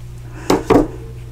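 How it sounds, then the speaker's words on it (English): Scissors make two quick, crisp snips through woven ribbon on an Easter bunny treat box, close and distinct against a quiet room hum. "So I'm just going to slip this under and just grab my scissors."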